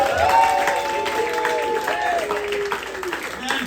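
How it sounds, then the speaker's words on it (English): A comedy club audience applauds steadily through a mid-level wash of clapping, with a host's voice speaking over it the whole time. "Give Jake a round of applause"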